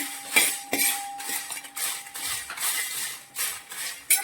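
Cinnamon, cloves and cardamom being heated in a dry pan, with close metallic scrapes and clinks of a utensil stirring the spices in uneven bursts, no voices.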